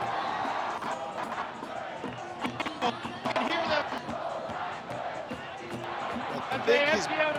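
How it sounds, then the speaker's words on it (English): A dense crowd of fans screams and yells during the Raptors championship parade, a loud, sustained roar with whoops and shouts rising and falling throughout, and voices mixed in. "People screaming and yelling."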